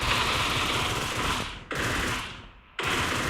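A Groza 7.62 rifle in a video game fires in long full-auto bursts, a loud continuous rattle of rapid shots broken by two brief pauses, with no voices over it.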